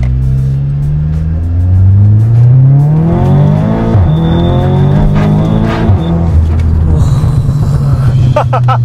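An Audi S3 Quattro Stage 4 revs hard and accelerates, its loud, close engine note climbing through rising sweeps with sharp shifts between gears, a voice briefly audible over the roar.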